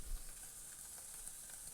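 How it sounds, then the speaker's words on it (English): Steady, continuous sizzling hiss of halloumi cheese cooking on a hot barbecue grill, even and unbroken throughout with no talking. "the first thing you'll notice is there's a bit of sizzling"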